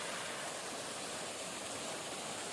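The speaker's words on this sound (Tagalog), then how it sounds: "May makikita kang mga falls, galing yan doon sa mga Alps." Alpine waterfall near Eibsee Lake in Bavaria, a steady broadband roar of falling water, constant and fairly distant, with no other sounds above it.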